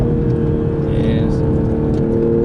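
Toyota GR Supra GTS sports car, a 2021 model, driving hard through a corner, its engine a steady loud drone heard from inside the cabin with a voice talking over it.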